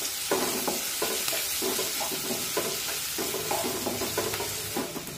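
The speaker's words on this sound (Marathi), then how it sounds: "त्यानंतर एक बारीक चिरलेला कांदा टाकूया आणि कांदा हलकासा तांबूस रंगावर येईपर्यंत परतून घेऊया।" Finely chopped onion sizzles steadily in a pan over medium flame while a spoon stirs it, scraping in repeated strokes above the constant frying hiss.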